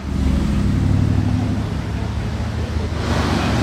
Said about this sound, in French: le GLC là à droite il faisait du bruit